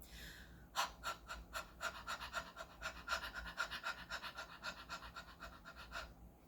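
Steady, rhythmic panting, with quick breathy huffs repeating at an even tempo for several seconds, close to the listener, no voice.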